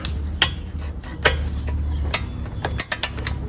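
A star bolt comes off the rear brake of a 2018-2020 Honda Accord, a ratchet giving a few sharp clicks and metallic knocks over a low rumble, close and loud, with no one speaking.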